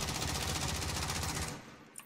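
Rapid automatic gunfire from the Warzone battle royale game, a dense continuous burst of shots lasting over a second before stopping abruptly, followed by a faint trailing click.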